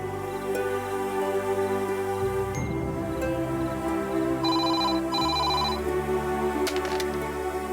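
A telephone rings in a quiet room, a steady repeating electronic ringtone pattern heard alone at moderate level, with a few faint background sounds.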